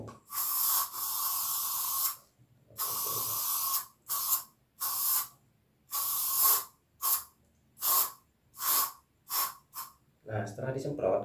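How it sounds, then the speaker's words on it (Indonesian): A spray can of cleaner, shaken first, is sprayed in a series of hissing bursts, several long ones followed by shorter rapid puffs, close and clear with no talk. "kita semprot aja seperti ini"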